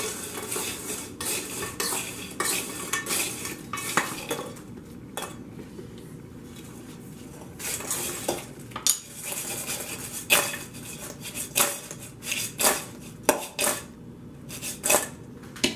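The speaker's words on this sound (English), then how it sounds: "And a little garlic, and then we're just going to toss it up." French fries tossed with salt and garlic in a metal bowl or pan, producing repeated clattering rattles and metallic clinks in bursts, near and fairly loud, with no talking.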